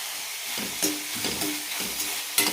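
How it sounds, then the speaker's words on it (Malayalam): Chopped tomatoes sizzle in a pan of frying ginger-garlic paste for a paneer gravy, with a steady crackling hiss broken by several sharp stirring scrapes and spurts close by. "ഇനി ഇതിലേക്ക് തക്കാളി ചേർക്കാം."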